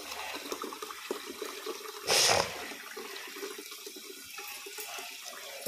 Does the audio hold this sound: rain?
no